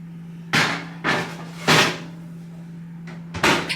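A few hollow thuds and knocks from an oven door closing as a cottage pie of mince and mash goes in to cook. The four or five irregular bangs sit over a steady kitchen hum, with no talking.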